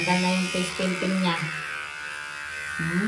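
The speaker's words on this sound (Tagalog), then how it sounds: "Toothbrush mo mabuti yung teeth mo." A child brushes teeth with a toothbrush, a steady buzzing hum running under near, continuous talk from an adult throughout.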